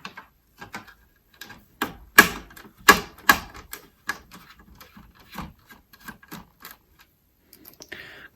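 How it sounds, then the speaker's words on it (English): Screws come out of a Commodore C16 computer case in a series of sharp, close clicks and scraping rattles, irregular and sparse with quiet gaps between, no talking. "Ah, there are another 2 screws over there. So let's get rid of them."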